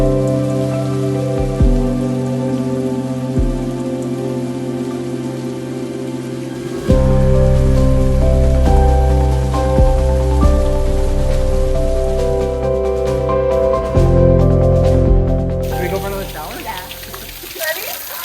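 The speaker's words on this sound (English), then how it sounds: "it started to pour rain. And I mean like torrentially pouring rain." Torrential rain pours down in Cambodia as a constant, loud hiss, mixed with prominent sustained musical tones and possible voices throughout.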